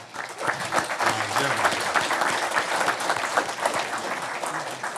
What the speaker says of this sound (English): You can go ahead and clap it up for that.